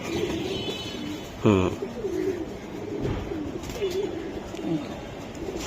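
A Giribaz pigeon, a tumbler breed kept by fanciers, coos once in a short rolling burst near the middle, with a few softer calls from pigeons later among faint background chatter and low murmuring voices.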